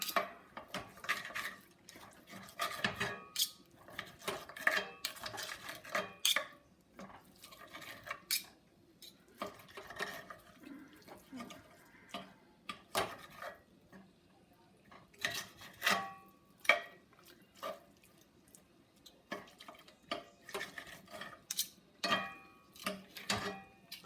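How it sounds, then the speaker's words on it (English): Knife and fork clink and scrape against a pan while chicken is cut into small pieces over high heat, a long run of scattered metallic taps and scratches with a faint sizzle in the background. "get a knife, maybe a fork, kind of cut it up"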